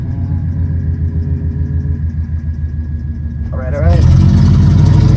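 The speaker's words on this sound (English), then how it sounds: "Starts up like nothing. You hear the turbo all of a sudden just..." A car engine with a turbocharger running about 6 lbs of boost idles steadily, then its note rises abruptly and stays louder as the turbo spools up. The sound is close and alone, with no voices.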